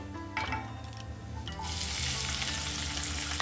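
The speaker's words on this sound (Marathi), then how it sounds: "तुम्ही बघू शकता तेल छान तापलेलं आहे, जिरं हे फुलायला लागलंय" Cumin seeds sizzling in hot oil in a pan, a steady close crackle that grows louder and denser partway through and then holds, with no voices.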